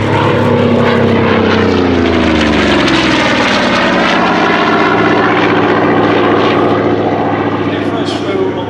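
Goodyear Corsair FG-1D fighter with a 2,300 horsepower Pratt & Whitney radial engine flying at the Shuttleworth Fly Navy airshow, a loud continuous propeller roar that passes close and slowly shifts in pitch as it fades.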